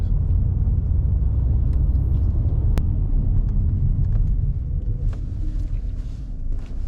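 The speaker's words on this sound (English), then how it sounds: "that was a pretty aggressive stop, and still didn't get no shimmy or anything out of it" A 2017 Nissan Altima braking hard to a stop, heard as a steady, loud low road rumble from inside the car that eases slightly toward the end, with no talking.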